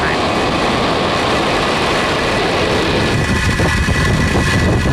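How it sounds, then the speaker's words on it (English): Falcon 9 rocket lifting off from SLC-4E at Vandenberg Space Force Base on the EROS-C3 mission, a loud continuous broadband roar and rumble that holds steady throughout. "Ignition and liftoff. We have Falcon 9 and the EROS-C3 mission."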